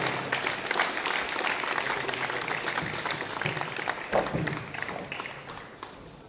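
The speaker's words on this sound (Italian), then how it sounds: "Un applauso." Applause from an audience at a civic award ceremony in San Severo, Italy, honouring volunteers such as the Red Cross: soft, fairly distant clapping that rolls on steadily for several seconds, with faint murmuring beneath.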